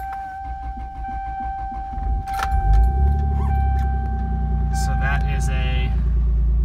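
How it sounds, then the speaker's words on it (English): A 1994 Toyota Supra twin turbo cold-starts: a short starter whir, then the engine catches and settles into a steady, deep idle rumble. A brief spoken word comes at the start, and a faint jangle and whine sit over the idle. "that's a cold start there. It just kind of starts right up."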